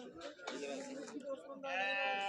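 Damascus lambs bleat at a small-livestock market in Ceyhan, Turkey, a few close, wavering cries, the last one long and loud, with market chatter around them.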